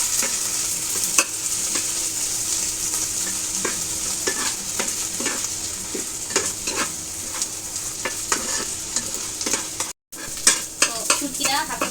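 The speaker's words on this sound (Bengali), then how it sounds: "শুটকিটা হালকা করে ভেজে নিয়েছি একটু রসুনের সাথে" Dried fish fries in hot oil with garlic, a steady close sizzle broken by frequent clicks and scrapes of a spatula stirring in the pan, with a brief dropout near the end.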